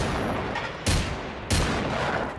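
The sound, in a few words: pistol gunshots in the video game Generation Zero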